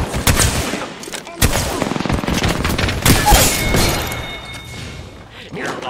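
Gunfire in the Apex Legends battle royale shooter: loud, close bursts of rapid shots with sharp cracks and thuds, heard over excited player voice chat.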